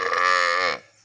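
A young spotted calf of about 25 to 30 kilos lets out one short, loud moo nearby, cutting off abruptly into near quiet.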